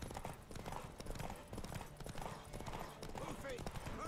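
Horse hooves clip-clop steadily in Witcher 3, a continuous trotting rhythm mixed in with game ambience and voices talking over it.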